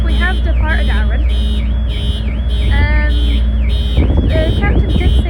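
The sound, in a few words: car alarms sounding on a ferry car deck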